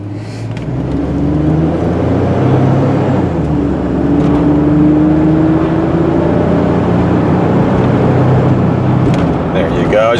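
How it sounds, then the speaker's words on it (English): A 2001 Chevy Blazer LS two-door accelerates steadily, its engine note climbing and dropping as it shifts up through the gears toward highway speed, heard from inside the cabin with constant road and wind noise. "I want to be quiet so you can see it shift through all the gears up to 55."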